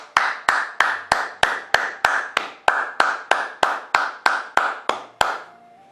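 Congregation clapping in unison during prayer, about sixteen sharp, evenly spaced claps at a steady rhythm, close and loud, ending with a faint trailing tone.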